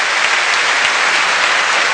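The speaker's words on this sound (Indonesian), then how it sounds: "Tepuk tangan untuk Pak Nurdin." A studio audience at an Indonesian television talk show applauds loudly and evenly, a thick continuous wash of clapping from many people with no pauses and no voices on top.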